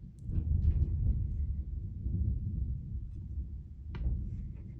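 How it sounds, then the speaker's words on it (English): Low, rolling thunder from a thunderstorm rumbles steadily through the clip, muffled as if heard from indoors through a window, with a brief sharper crack near the end. "there is a rollicking thunderstorm going on right outside my window right now"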